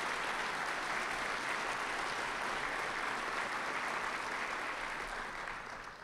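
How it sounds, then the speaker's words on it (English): A large audience in a hall gives sustained, even applause at a city State of the City address, loud and dense throughout and easing slightly at the end. "Let's give them a round of applause."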